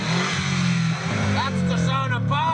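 A homemade submarine's small motor runs with a steady buzzing drone throughout, while excited voices shout over it.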